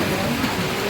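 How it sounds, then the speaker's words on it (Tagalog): Heavy rain pours in a dense, steady hiss, loud and continuous with no breaks. "Malakas po ang ulan"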